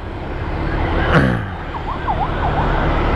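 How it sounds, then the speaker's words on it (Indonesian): An ambulance siren wails along the road in a rising and falling pattern, moderately close over steady traffic and engine noise, with one brief louder burst partway through. "Ambulan nggak ada yang escort gitu."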